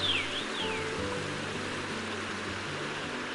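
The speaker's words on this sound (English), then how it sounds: "The gurgling sound you hear up ahead heralds your arrival at the Brookside Trail." A gurgling brook in a mountain forest along a woodland trail gives off a continuous, fairly loud rush of flowing water, even and unbroken throughout, with a brief thin whistling tone near the start.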